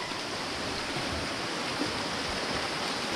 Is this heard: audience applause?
no